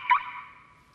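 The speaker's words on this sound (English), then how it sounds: "For example, conventional cars have a locking sound like this." A conventional car's locking signal, one short electronic chirp that rings briefly and fades, faint and alone.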